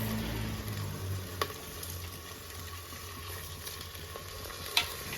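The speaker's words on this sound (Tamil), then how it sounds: "நல்லா ஒரு கிளறு விட்டுக்கணுங்க. லைட்டாக அப்படி கிளறு அரிசி உடையாமல்" Rice being stirred into onions and mint frying in a pan, a steady soft sizzle with a few scraping knocks of the spoon, close and without talk.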